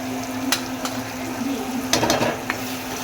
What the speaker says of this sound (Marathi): आपण याला एक छानसं स्टर देऊ